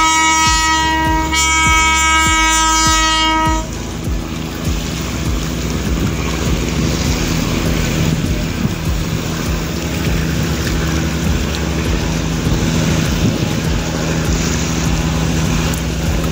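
Passenger launch Karnaphuli 14 arriving from Dhaka sounds a loud, sustained horn blast for several seconds, then a steady engine drone and water rumble carry on close by.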